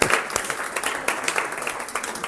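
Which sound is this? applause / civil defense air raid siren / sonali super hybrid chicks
applause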